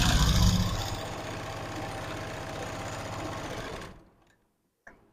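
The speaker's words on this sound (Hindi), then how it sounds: "और पूरे गले पर आपको सिलाई लगानी है।" Sewing machine stitching around a blouse neckline, a steady fast mechanical whirring with rapid needle ticking that runs close and loud for about four seconds, then stops, followed by a brief small click.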